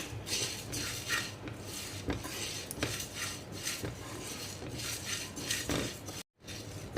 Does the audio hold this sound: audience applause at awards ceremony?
no